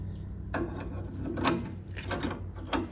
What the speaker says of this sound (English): Use a crescent wrench to help apply some additional torque to the flat of the screwdriver